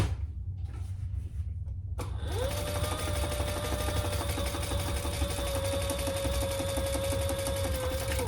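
A sewing machine bastes a zipper sling piece in place: after a quiet moment it starts up and runs in a steady, close, rapid stitching whir until the end.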